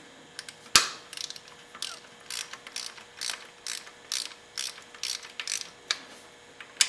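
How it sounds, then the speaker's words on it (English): A ratchet clicks in short uneven bursts while the throttle body bolts are snugged back in, crisp close mechanical ticking with a sharp knock near the start and no talking. "take your ratchet, not over tightening, slightly snugging the bolts back in"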